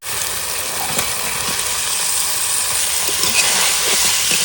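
Shol fish head dropped into hot spiced masala, giving a loud, steady, close sizzle and fry hiss that holds without a break throughout.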